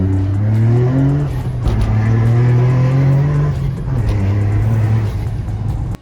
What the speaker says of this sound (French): faire un petit tour dans la Toyota Yaris hydrogène, donc un moteur thermique, de faire du rallye dans les rues du Mans